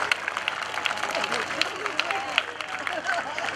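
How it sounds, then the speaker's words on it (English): Scattered clapping and crowd noise at a moderate distance at a naval air show, a patter of many hands with murmuring voices mixed in. "would you give a great round of applause"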